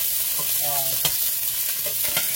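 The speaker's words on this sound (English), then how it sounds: "I'm gonna go ahead and start sauteing." Seasoned food sautés in a hot pan, sizzling steadily with clinks and scrapes from stirring, loud and close, no talking.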